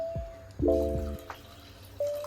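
A brief splash and gurgle of water poured into a cooking pot, with a few drips and a faint hiss from the stove.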